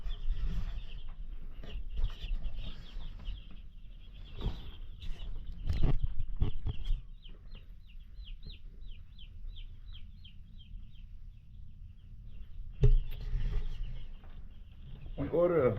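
Chickens cluck and call on a farm in short, scattered bursts, near and fairly loud at times, with a long run of rapid chirping in the middle and a person talking intermittently.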